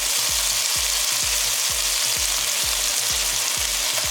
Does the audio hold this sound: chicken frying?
yes